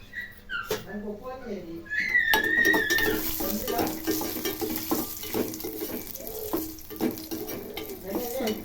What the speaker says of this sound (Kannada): ಒಳಗೆ ತುಪ್ಪ ಹಾಕಿ ಗೋಡಂಬಿ ಹುರ್ಕೋಬೇಕು